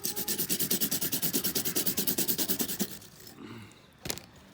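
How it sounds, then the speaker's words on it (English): A wire brush scrubs rust off a secateur blade in fast, rhythmic back-and-forth strokes, loud and close, before stopping to a quieter rub and a single sharp knock. "Now what I'm going to do with the wire brush is just clean all of this."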